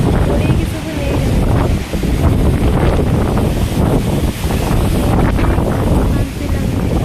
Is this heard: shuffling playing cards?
no